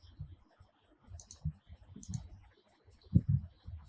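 A few soft, sparse computer mouse clicks, exporting a document in Google Docs, sound quietly in a near-silent room with faint background noise and no talking.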